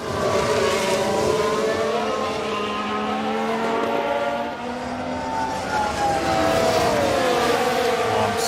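Formula 1 race cars in the F1 Manager 2022 game roar past one another during an overtake, a loud continuous layered engine whine with pitches sweeping up and down as several cars pass close by.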